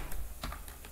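Typing on a computer keyboard while entering text in the Emacs editor, a few quick, close key clicks in an irregular burst over a quiet background.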